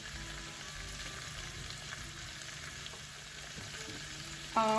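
Pepper shrimp with shallot or green onions fry in a pan, a soft, constant sizzle held steady for several seconds, with a slight rise and a brief clatter at the very end.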